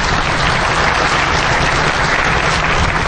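A DEFCON 16 conference crowd applauds for Nemo, a thick, even burst of clapping filling the whole few seconds without any pause.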